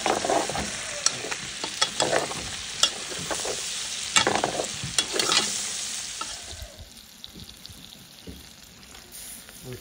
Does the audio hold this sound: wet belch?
no